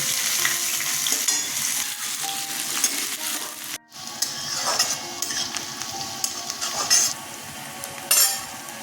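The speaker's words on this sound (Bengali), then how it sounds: "আর জিরে দিলাম এবার পেঁয়াজটা দিয়ে দিলাম" Onion dropped into hot oil already holding cumin, dried red chilli and bay leaf for a Bengali fish-head murighanta, sizzling loudly and steadily with stirring and occasional utensil clinks, with a brief gap midway.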